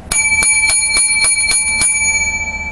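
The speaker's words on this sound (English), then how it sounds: "Seven lucky bells for this show, for this week" Seven loud, quick bell rings come in a steady rhythm, each clear metallic ding ringing on and overlapping the next before fading, with no talking over them.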